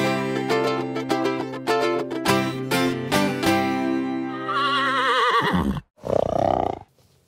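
A large black Danish dressage horse neighs loudly and close, a long harmonic whinny that wavers and trembles, breaks off, then ends in a short snorting burst.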